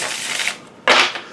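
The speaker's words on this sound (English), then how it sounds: "So it shuffles just like a deck of playing cards." A Carnival at the End of the World card deck, printed on standard playing-card cardstock, is shuffled by hand in two quick, crisp rustling bursts separated by a short pause, close up with no talking.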